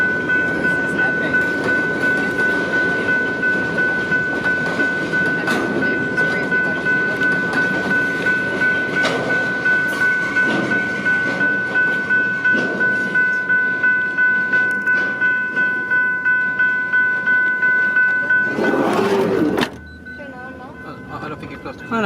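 Freight train with four locomotives at the head rolling past close by, a steady rumble with rhythmic clickety-clack of wheels and a sustained whining tone, then dropping away near the end; brief voices are heard.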